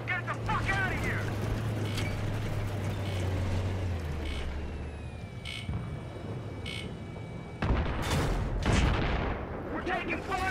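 Battlefield 3 combat plays out, with heavy gunfire and booming blasts over rumbling vehicle noise, a whistling sweep overhead and a sharp burst near the end, while voices shout in the mix.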